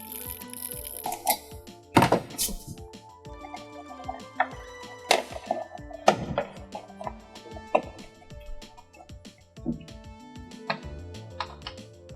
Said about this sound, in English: putting these screws in to tighten it down.